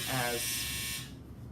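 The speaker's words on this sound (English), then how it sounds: "my dryer just went off." A clothes dryer's finishing buzzer sounds indoors, a steady electronic drone that holds for about a second before cutting off, with a voice talking over it.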